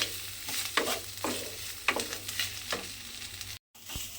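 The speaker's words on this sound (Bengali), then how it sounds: "নারকেলটাকেও একটু ভাজা ভাজা মতো করে নিতে হবে" Grated coconut sizzles and fries in a pan with colocasia greens as a spatula scrapes and stirs it in repeated strokes, a steady close crackle with rhythmic scraping and no talk.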